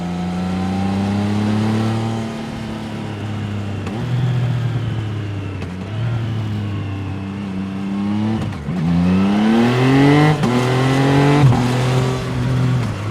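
A 2024 Triumph Trident 660 motorcycle's engine growls steadily on the Nordschleife, rising and falling through revs with quick upshifts and a loud burst of acceleration near the end, recorded close and continuous.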